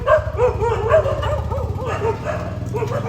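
Several dogs bark and yip in quick, overlapping bursts, fairly close, over a steady low engine-like rumble.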